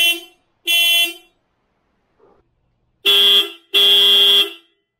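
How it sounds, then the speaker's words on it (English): An aftermarket Hella horn on a Toyota Corolla honks four times, two short blasts, a pause, then a short blast and a longer one, loud and close. "Alright, so I just honked the horn."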